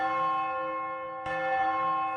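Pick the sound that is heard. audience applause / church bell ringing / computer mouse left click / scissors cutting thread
church bell ringing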